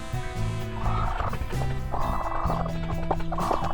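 Hens in a backyard flock, two of them brooding on eggs, make steady guttural clucking and low warbling calls, with overlapping birds close by and no talk.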